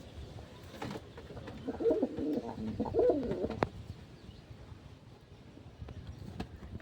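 Pigeons, including a newly brought red-eyed female and a white-eyed bird, cooing softly at close range in repeated low throaty phrases over faint background noise.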